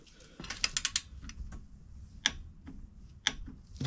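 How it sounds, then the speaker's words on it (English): A torque wrench tightens the oil drain plug on a 2021 Yamaha Grizzly 700 ATV, giving a quick run of close ratcheting clicks followed by a few isolated sharper clicks. "I know this torque wrench here is kind of overkill, but it's the only thing I have that's actually in foot-pounds."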